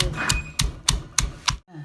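A pestle pounds shrimp paste in a mortar with five sharp, evenly spaced knocks at a steady rhythm, close and fairly loud, then stops.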